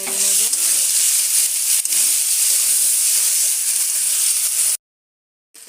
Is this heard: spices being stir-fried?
yes